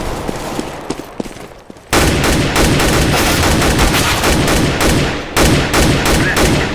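Gunfire in Counter-Strike: a few scattered shots, then from about two seconds a dense, loud, sustained burst of automatic fire that barely pauses and swells again near the end.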